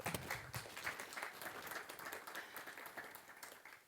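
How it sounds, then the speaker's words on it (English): Applause from an audience at a university talk on digital urban layers, a faint, dense patter of clapping that carries on evenly for a few seconds. "applause"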